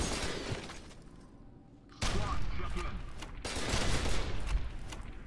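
Heavy gunfire in the video game F.E.A.R. 2, with dense bursts of shots, crashes and impacts filling the scene, loud and continuous, and a voice speaking over parts of it.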